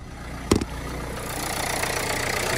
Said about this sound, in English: You can see the van's running with the engine management light on due to the inlet air flap.